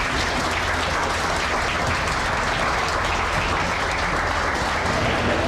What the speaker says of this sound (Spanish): Lo recibimos por favor con un fuerte aplauso.